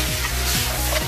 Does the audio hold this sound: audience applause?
no